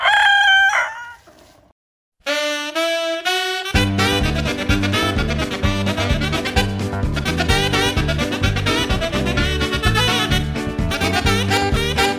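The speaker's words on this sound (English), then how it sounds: "those chickens are so funny." A rooster crows and chickens cluck, loud and close, for about two seconds, then drop out under a sudden burst of loud, busy music that fills the rest of the clip.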